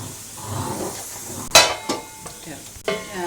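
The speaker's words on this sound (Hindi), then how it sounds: "और अभी मैं इसका फिर भगार लगाती हूँ" Hot spiced oil tempering (bhagar) for homemade chicken haleem, sharp sizzling bursts as it hits the pot, two loud crackling splashes amid quieter stirring and faint clinks of utensils, close up.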